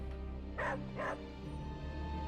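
Two short, bright barks from Charlie the dog in Marvel's Midnight Suns game, spaced about half a second apart over a soft musical background.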